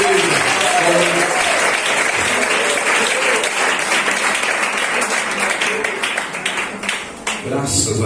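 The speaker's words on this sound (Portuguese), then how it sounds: "com palmas bem alegres para Jesus, igreja." Church congregation at a worship service in the Comboios Indigenous village, Aracruz, claps joyfully for Jesus; dense, steady applause fills the space with voices mixed in and a brief dip near the end.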